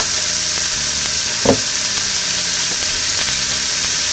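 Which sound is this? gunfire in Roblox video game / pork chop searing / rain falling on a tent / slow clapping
pork chop searing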